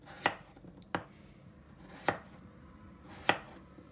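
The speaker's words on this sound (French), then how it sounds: "Donc là, on découpe." A knife chops potatoes into pieces on a board, with four sharp, separate strikes at an uneven pace, close and clear against a quiet background.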